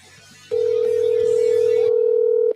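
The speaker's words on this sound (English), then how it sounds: "You hear it ringing." A single steady telephone tone sounds during an outgoing call to an ex, loud and close, holding unbroken for about two seconds before cutting off.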